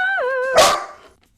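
A dog gives a single close, loud bark with a whining onset, tailing off quickly into silence.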